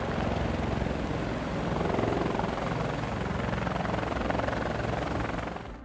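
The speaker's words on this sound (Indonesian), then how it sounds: "helikopter Apache melakukan pendaratan di dek kapal induk Amerika" An Apache helicopter's rotor thrums loudly and steadily throughout as it lands on an American aircraft carrier deck, a dense close roar with a high whine on top, fading slightly at the end.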